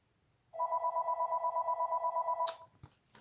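A mobile phone rings in a home setting, a loud, pulsing electronic ring lasting about two seconds before being cut off, followed by a few soft handling clicks.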